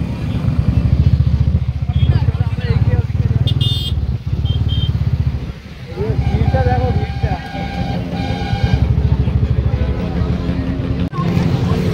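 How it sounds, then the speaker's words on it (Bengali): A dense crowd of motorcycles idles and revs at the Dankuni toll plaza during an Independence Day ride. Engines keep up a continuous loud, close rumble, with shifting throttle blips layered throughout. "এই যে প্রচুর বাইক আছে"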